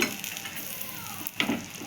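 Moglai frying in a pan over a very low gas flame, giving a steady soft sizzle throughout with a brief louder crackle near the end, close and fairly quiet, with no talking.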